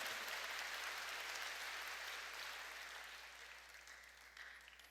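A church congregation claps during a sermon, a broad wash of many hands that is loud at first and slowly fades.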